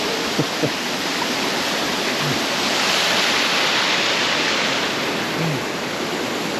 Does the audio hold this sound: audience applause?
no